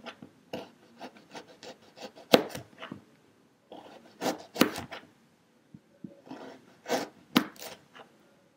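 A knife cuts carrots into ovals on a board, giving a series of close, crisp slicing and scraping strokes in irregular bursts with short pauses, and no talk.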